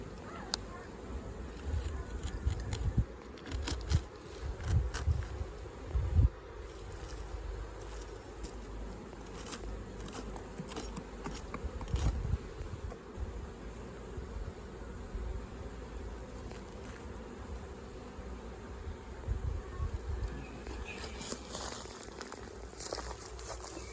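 Honey bees buzz steadily through a hive rescue in Livonia, Indiana, a faint continuous drone with scattered louder thumps and handling knocks nearby.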